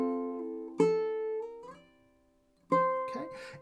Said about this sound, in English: Now, a normal slide would sound something like this.